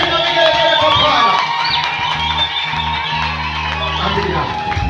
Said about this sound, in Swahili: Piga makofi na vigelegele kwa Bwana.